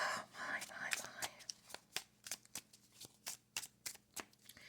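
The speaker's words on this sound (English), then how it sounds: "And while I'm shuffling" Mythic Tarot cards shuffled by hand close to the mic, a run of crisp, evenly spaced riffling snaps that follow a brief softer rustle at the start.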